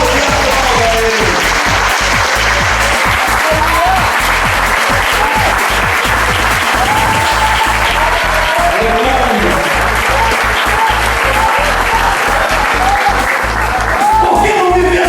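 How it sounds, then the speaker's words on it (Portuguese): Church congregation applauding steadily at a celebration service, a dense, continuous wash of clapping from many hands filling the whole stretch at close range. "Se você puder, aplaudir a ele."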